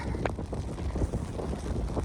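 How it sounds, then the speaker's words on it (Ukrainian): Wind gusts buffet the microphone in an open wheat field during rain, a steady roaring rumble close up with no clear breaks. "Вітер дме, шикардос."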